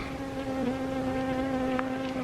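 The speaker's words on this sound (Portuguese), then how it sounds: "A abelha quer participar." A bee buzzing right at the microphone outdoors in the Dolomite mountains of Cortina d'Ampezzo, a steady close whine holding for a couple of seconds with no voices.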